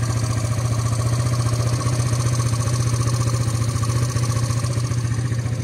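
A Modenas Elegan/Endura-type motorcycle engine idles steadily up close, a loud, even chugging rattle with no speech.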